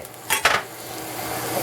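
Spicy sausage flipped and pressed in a frying pan: two quick metallic scrapes of a utensil against the pan, then a soft, steady sizzle of frying that continues alone.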